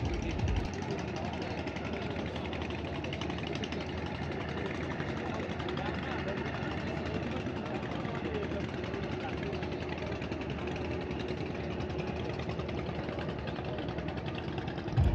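The engine of the Kirtankhola-10 river passenger launch drones steadily as the vessel turns on an Eid special trip, a constant mid-pitched mechanical hum carried unbroken for the whole stretch.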